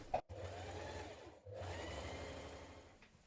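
A sewing machine stitches a coat sleeve seam in a steady mechanical whir, pausing briefly near the start and again midway before running on, close and fairly quiet.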